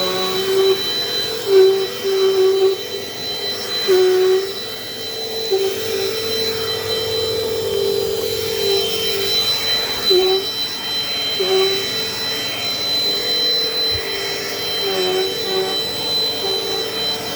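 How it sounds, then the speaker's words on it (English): A Dirt Devil Dynamite Plus vacuum cleaner runs continuously with a steady whining motor hum and a high tonal whistle, its pitch shifting slightly as it moves, with occasional faint bumps. "we're going to do some vacuuming"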